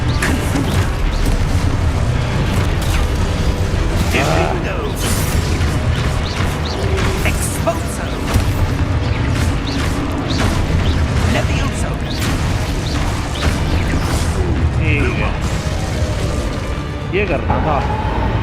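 Spell blasts and explosive bursts from the Hogwarts Legacy game on PS5 boom and crash continuously through a dense, loud battle mix, with a voice shouting spell names over them.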